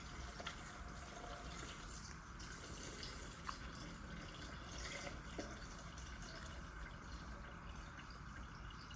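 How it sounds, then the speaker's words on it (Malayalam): Water is poured into a container while orange juice is made, a faint, steady trickle and fill sound with a few light clinks and no talking. "നമുക്ക് വെള്ളം ഒഴിക്കാം."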